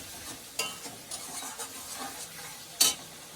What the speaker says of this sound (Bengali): এই মশলাটা সামান্য একটু কষা নিয়ে গেছে, এবার টমেটো কুচি দিয়ে দিলাম।